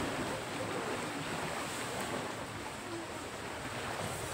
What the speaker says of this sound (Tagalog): Pasyal ko kayo dito sa tabing dagat